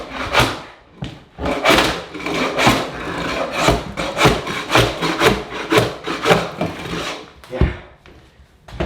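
Glued-down kitchen flooring is pried and torn up, producing loud, close, continuous scraping, rasping and cracking with repeated forceful strokes and no pauses.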